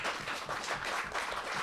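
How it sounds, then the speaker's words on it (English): Live audience applause at a Christmas special show, a short burst of dense clapping at moderate distance, steady for under two seconds. "You applaud that"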